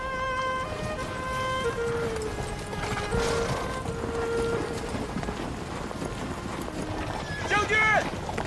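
A general's horse is brought forward on a historical battlefield, with hooves clopping under sustained musical tones and background voices, and a short whinny-like call near the end.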